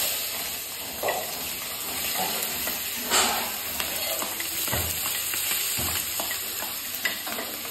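Onions sizzle steadily in hot refined oil in a home kitchen pan while fried rice is being made, with a dense continuous hiss, occasional stirring scrapes and soft clatter, close and moderately loud, with no voices.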